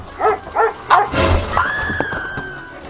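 A heavy dog gives a few short yips and whimpers close by, followed by a sudden burst of noise and a sustained high tone.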